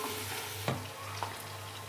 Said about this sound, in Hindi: तो अब हम इसको प्याज को गोल्डन ब्राउन करते हैं।